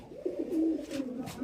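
Madrasi highflyer pigeon giving a single soft, rolling coo lasting about a second, close and quiet.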